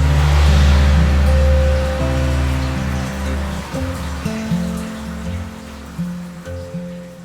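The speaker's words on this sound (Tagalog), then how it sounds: "Malakas ang buhos ng ulan nang magising kami kinabukasan." Steady, heavy rain pours down in a constant wash, with a low rumble underneath; no voices.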